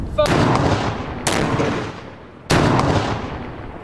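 A test bomb goes off after a countdown: three sharp, loud blasts, each fading into a rumbling tail, with no voices over them.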